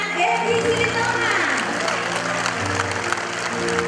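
An audience claps for a singer on stage during a televised Indonesian music show, the applause blending with sustained musical tones and some crowd murmur, steady and moderately loud across the short stretch.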